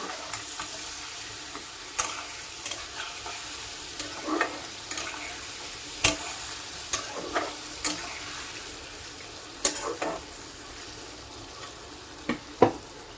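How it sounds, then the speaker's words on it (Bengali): Pumpkin cooks with spices and a little water in a pan over a low flame, a continuous bubbling sizzle broken by repeated sharp spatula scrapes and taps against the pan, with no voices. "এবার আমি সামান্য একটু জল দিয়ে কুমড়োটাকে কষিয়ে নেবো এই মশলার সঙ্গে"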